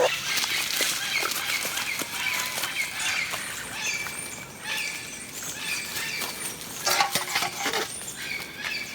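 Chickens scratch and cluck busily in a permaculture run shaded by West Indian cherry, custard apple and mango, fed on kitchen scraps, wild cucumber and pond plants; a steady, dense patter of soft calls and rustling with no talking.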